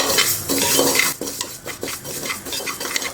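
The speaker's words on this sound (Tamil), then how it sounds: "குக்கரில் நம்ம எடுத்து வச்சுருக்கிற பாசி பருப்பை போட்டு நல்லா பொன்னிறமாக வறுத்துக்கலாம்" Metal spoon scraping and clinking against a pressure cooker as moong dal is dry-roasted and stirred, steady close scraping with sharp clanks throughout and no talking.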